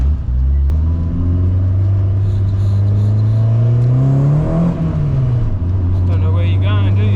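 A Peugeot 106 GTI engine drives close by with a steady low drone, rising in a rev around the middle and settling back, while people talk over it.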